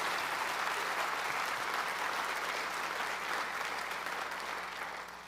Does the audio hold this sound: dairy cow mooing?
no